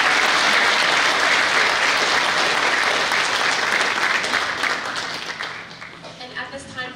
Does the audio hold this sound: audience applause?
yes